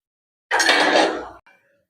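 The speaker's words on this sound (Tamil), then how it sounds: "கடுகு நல்லா பொரியணும்." Mustard and cumin seeds spluttering in hot oil in a clay pot, a dense crackling burst for about a second that cuts off abruptly, followed by a brief faint tail.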